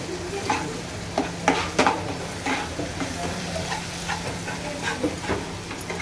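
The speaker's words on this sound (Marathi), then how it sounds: "आता हा मसाला सगळा मिक्स करून घ्या" Masala spices are stirred in a sizzling pan while mutton cooks: a steady frying hiss with repeated scraping strokes of a spoon against the pan, close and clear.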